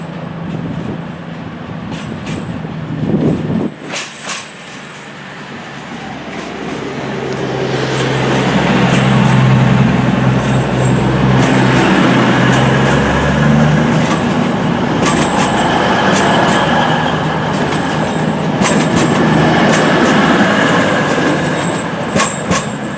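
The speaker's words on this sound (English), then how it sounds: "I'm now leaving. It's the 1705 cross-country service to Cardiff Central via Birmingham New Street and Bristol Temple Meads." CrossCountry train departing a Manchester platform on the 1705 service to Cardiff Central, a steady rising rumble of wheels and engine with squealing and clickety-clack as it pulls away, loud and close, no talking.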